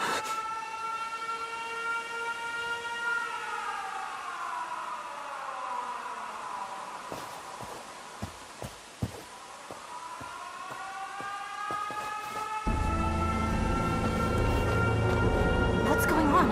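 An air raid siren wails in the video game 13 Sentinels: Aegis Rim, its loud tone sliding down and then climbing back up. A heavy, rumbling roar breaks in near the end.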